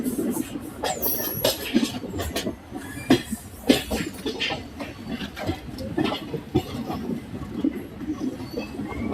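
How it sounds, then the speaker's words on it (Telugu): A DEMU train rolls across multiple tracks into the last track at Manoharabad station, with steady rumbling, repeated clicks and clacks over rail joints, and a brief high squeal, heard close and continuous without talk. "మన ట్రైన్ చివరి ట్రాక్లోకి వెళుతోంది."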